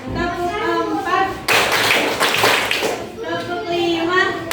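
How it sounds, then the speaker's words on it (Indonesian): A primary school class claps together in a short burst of counted rhythm, loud and sharp between a teacher's spoken counting in Indonesian before and after. "Tepuk 1, tepuk 2, tepuk 3, tepuk 4,"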